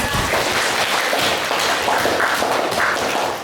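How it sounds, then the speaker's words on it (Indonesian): A chemistry classroom claps for a student, a steady, close patter of many hands that carries on evenly and tapers slightly at the end. "Kasih tepuk tangan dulu untuk Nabil."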